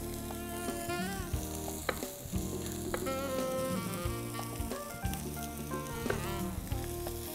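Skin-on potatoes sizzle and spit steadily in a frying pan on a gas stove, with a bright crackle running the whole way through under prominent background music.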